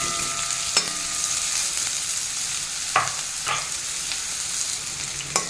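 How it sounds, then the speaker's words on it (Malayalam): Onions stirred and frying in a pan for a lotus seed (makhana) roast, a steady bright sizzle with a few sharp spatula scrapes and knocks against the pan, close up and with no voices. "ഇനി നമ്മൾക്ക് ഇളക്കി കൊടുക്കാം ഒന്ന് ഈ ഉള്ളി മുക്കുമ്പോഴേക്കും"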